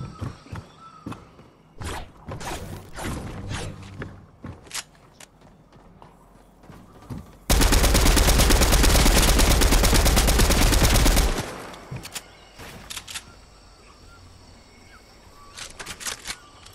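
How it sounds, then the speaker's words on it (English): Rapid video-game gunfire, rendered as a loud, dense four-second burst of sharp automatic shots, breaks out mid-match as players fire at opponents who keep rebuilding fast; it cuts off abruptly, with scattered clicks and quieter game sounds around it. "I was shooting at them, they built back too fast."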